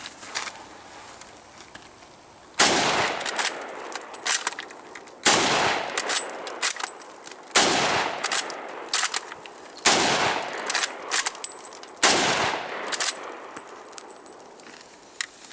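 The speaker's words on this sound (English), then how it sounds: "So let's shoot a few more rounds." Five loud, sharp rifle shots from a 1903 Springfield, spaced about two to three seconds apart, each followed by a brief ringing decay and small metallic clinks of the bolt between rounds, with no talking.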